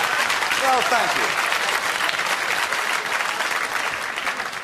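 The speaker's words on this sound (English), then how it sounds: "Thank you for your applause." A stand-up comedy audience claps in steady, dense applause with a few cheers mixed in, gradually easing off toward the end.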